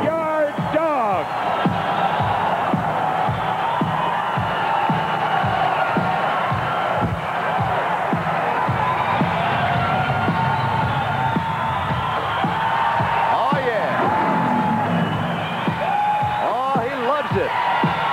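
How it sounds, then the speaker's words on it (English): A packed 1984 WWF wrestling arena crowd roars and cheers wildly as a wrestler enters the ring, a dense, sustained wall of whoops and shouts with sharp slams and yells throughout. "Crowd loves it. They're going wild."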